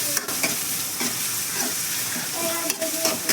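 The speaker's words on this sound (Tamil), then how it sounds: "இது கொஞ்சம் பொன்னிறமாக வந்து வதங்கட்டும்." Onion, crushed garlic and a couple of dried chillies sauté in a pan with a steady, close sizzle broken by a few sharp scrapes and clatters of stirring, no voices.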